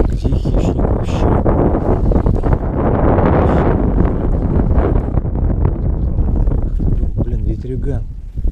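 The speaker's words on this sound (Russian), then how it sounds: "Блин, ветрюган." Strong winter wind on the Moscow River roars and buffets the microphone continuously, a dense rushing noise with no letup.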